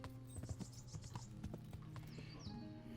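Horse hooves in the video game Kingdom Come: Deliverance clip-clop in a quick, even gait, close and clear, with a short whinny partway through.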